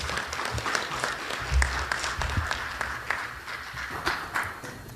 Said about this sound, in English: I like clapping in between.